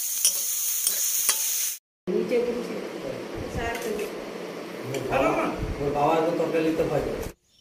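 Greens (shak) frying in a pan while being stirred, a loud close sizzle with repeated scraping strokes, partly under a voice, cut off by short silent gaps at the start and end.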